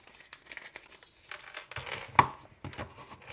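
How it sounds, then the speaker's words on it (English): Paper money and cards slid into the pocket of an iPhone XS Max phone case, close crinkling and rustling with one sharp snap midway. "you could put your money and credit cards in there, what I'll show you now"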